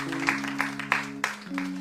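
A church congregation claps in a steady rhythm, about one sharp clap every third of a second, over a sustained keyboard chord that shifts pitch near the end.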